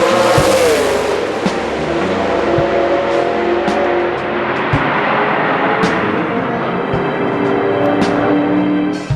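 Racing car with a 5.0-litre engine making about 800 horsepower in qualifying trim, roaring loud and close at high revs. A brief pitch sweep opens a sustained, dense engine howl, with sharp transient clicks scattered throughout.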